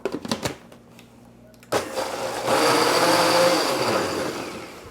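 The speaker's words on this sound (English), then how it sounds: "this is just a quick blender mayonnaise or aioli" A few clicks and knocks, then a blender mixing aioli whirs on loudly and runs steadily, its motor droning close by.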